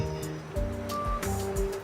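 Water sloshing and splashing while banana fibre pulp is rinsed to wash out sodium hydroxide, a steady wet churning with a few surging swells, close and fairly loud with no voices.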